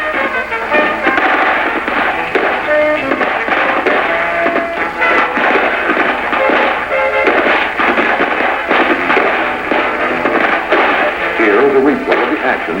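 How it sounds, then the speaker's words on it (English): Dismounted rifle squad firing from an overwatch position in a 1975 training film, a dense, continuous roar of rapid gunfire with overlapping cracks, loud and sustained throughout. "second squad, which is in an overwatch position to the rear, opens fire"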